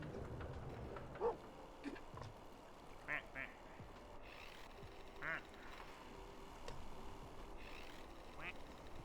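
Scattered duck quacks in a duck video game, a few short bursts spread over a steady low background bed, with a faint voice at times.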